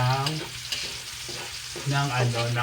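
Hotdogs frying in leftover cooking oil from earlier ham, with a steady loud sizzle and occasional stirring, while a voice talks intermittently over it.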